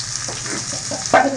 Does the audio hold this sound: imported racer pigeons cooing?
no